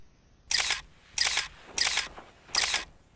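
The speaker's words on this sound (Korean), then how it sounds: "고요한 서재에 셔터 소리가 천둥 소리처럼 울렸습니다." Four crisp camera shutter clicks come at an even pace, each one sharp and close, as pages of a notebook are photographed in a quiet study with no voices.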